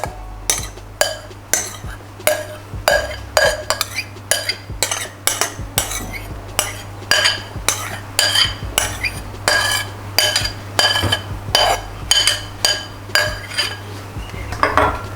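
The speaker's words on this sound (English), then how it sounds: "Next, gently mix them together" A utensil gently mixes cream into waffle batter in a bowl, producing a steady rhythm of clinking, scraping strokes about twice a second, close and distinct against a low background hum.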